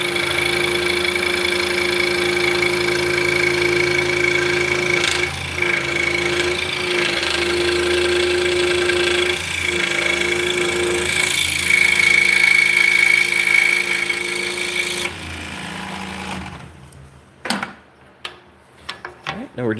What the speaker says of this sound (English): So this is the cool thing about scroll saws is you can make internal cuts.